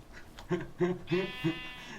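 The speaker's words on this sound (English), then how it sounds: "There's actually 4 sheep." Sheep bleating in Minecraft, four short nasal bleats in steady rhythm, close and moderately loud, with no talk over them.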